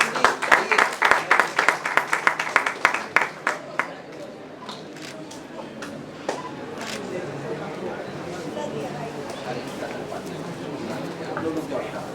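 An audience at a hackathon competition ceremony bursts into a round of applause, with dense clapping peaking in the first few seconds and then thinning out into scattered claps and room murmur.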